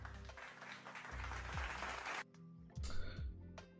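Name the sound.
applause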